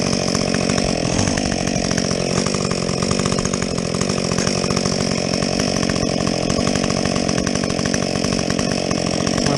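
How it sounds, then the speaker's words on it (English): A Husqvarna 562XP chainsaw with a modded muffler cuts through a felled tree, roaring loud and continuous at full throttle for the whole stretch. "Face full of sawdust, chainsaw."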